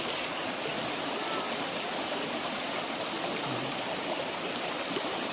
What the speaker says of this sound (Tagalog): Papakita ko po sa inyo yung Sapa dito sa amin.